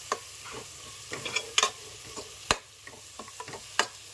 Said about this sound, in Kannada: ಒಂದು 5 ನಿಮಿಷ ಎಲ್ಲ ಸ್ಮೆಲ್ ಸ್ವಲ್ಪ ಹೋಗೋವರೆಗೂ ಫ್ರೈ ಮಾಡಿ